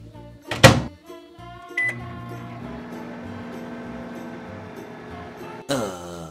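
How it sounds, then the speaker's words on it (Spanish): A microwave oven hums steadily while heating sugar syrup for bubble tea, with a loud clatter as it starts and a door-like clunk and beep near the end; no one speaks. "Y ahora esto se va para el microondas."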